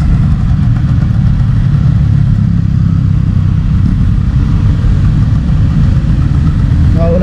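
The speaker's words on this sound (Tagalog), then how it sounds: "So ito yung makina niya guys." A second engine under test, with a noticeable noise in it, idles close to the microphone, producing a loud, steady low rumble that holds without revving for the whole stretch.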